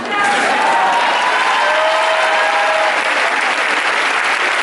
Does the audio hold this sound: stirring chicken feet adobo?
no